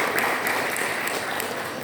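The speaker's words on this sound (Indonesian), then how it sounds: "kita kasih aplaus juga kepada mereka pemain dramanya ya" Congregation applause for drama performers at an Easter service, a steady, moderate wash of clapping from a crowd in a hall, with a few sharper claps standing out.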